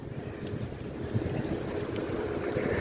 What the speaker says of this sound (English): This is my favorite kind of weather where sun's not out and it's very windy.